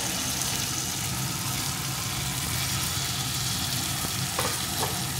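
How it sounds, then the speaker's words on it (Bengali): Fried pointed gourds (potol) tossed in a spice paste in a pan for potoler dorma, giving a steady, loud broadband sizzle that runs continuously with a few faint clinks of stirring near the end. "পটলগুলোর সাথে মশলাটা আরেকটু কষিয়ে নেব।"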